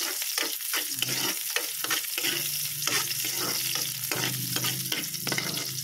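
Onions sautéing in a pan as the base for a Filipino shrimp paste (alamang) dish, a steady close sizzle broken by repeated scraping stir strokes, with no one talking.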